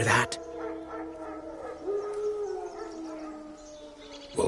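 Wild dogs howling in a video game, a long wavering howl rising and falling over a quiet background, heard alone and moderately far off.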